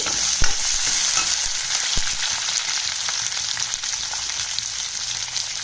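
Vegetables sauté in oil in a pan while yam is cooked for a tamarind curry, giving a steady close sizzle with a few sharp utensil scrapes and knocks early on.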